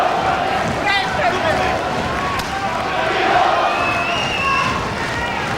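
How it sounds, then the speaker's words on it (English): A boxing arena crowd chants rhythmically in support of a fighter during a bout, a rowdy roar of voices underneath a commentator talking over it. "Crowd at the point here, trying to lift Collins with chants of Steve-O, Steve-O."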